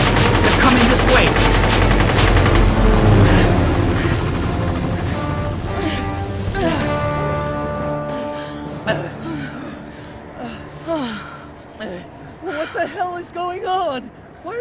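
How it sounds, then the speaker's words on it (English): Troops open fire in the PS1 game Aconcagua: loud, dense bursts of gunfire dominate at first, then thin into scattered shots under game music and voices talking. "Shooting at us!"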